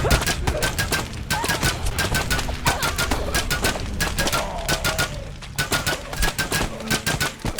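Rapid, unbroken bursts of automatic gunfire from the video game Dark Apostate, used as suppressive fire. The sharp shots crackle in a dense, steady stream for the whole stretch, loud and close.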